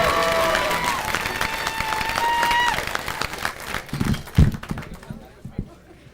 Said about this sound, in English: Please applaud Rich Barber!